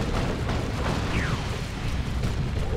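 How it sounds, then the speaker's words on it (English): Tank Buster Barrage explosions in the Dawn of War 2 real-time strategy game, a dense, loud, continuous stream of bursts, crackles and mechanical clatter as the barrage hammers a turret. "Tank Buster Barrage almost one-shotting that turret."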